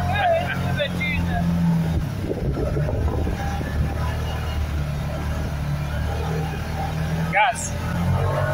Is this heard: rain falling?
no